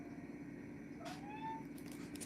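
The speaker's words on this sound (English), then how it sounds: "That's my cat meowing." A pet cat meows once, a clear rising-then-falling cry in the middle of an otherwise quiet room with low background hum, heard alone without talk.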